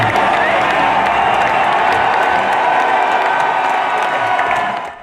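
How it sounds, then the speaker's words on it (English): A stadium crowd at a college football broadcast event roars in a frenzy as the Cougar mascot headgear is donned, a loud continuous wall of cheering and clapping that fades slightly at the end. "With the announcement, Corso donned the Cougar mascot headgear and sent the crowd into a frenzy."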